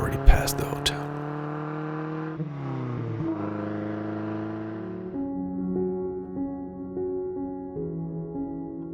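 A classic Alfa Romeo Spider pulls along a road, its engine note climbing then dropping through gear changes and rising again under steady throttle, heard up close with someone speaking over it.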